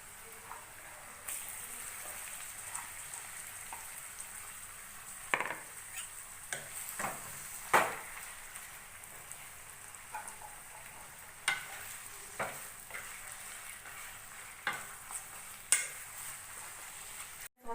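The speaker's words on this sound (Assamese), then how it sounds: "এতিয়া মেৰিনেট কৰি থোৱা মাংসখিনি ইয়াত দি দিছোঁ।" Marinated chicken sizzles steadily in a pan, with a spoon or spatula stirring and scraping against the metal now and then. The sounds are fairly faint and close, with no talking.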